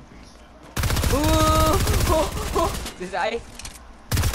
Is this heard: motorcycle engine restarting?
no